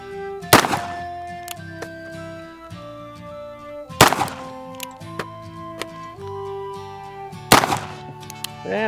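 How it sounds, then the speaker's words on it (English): Replica Colt 1861 Navy cap-and-ball revolver fired at bottles outdoors, three sharp loud shots spaced a few seconds apart, with ringing tones and light clicks and knocks in between. "So let's go on over here and shoot some bottles."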